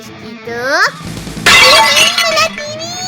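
A loud crash of a television's glass shattering bursts out after a high, whining voice, with more voiced cries over the breaking debris, in a cartoon.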